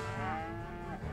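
A cow mooing in the video game Rock of Ages 2, one long, low, drawn-out moo heard clearly and alone.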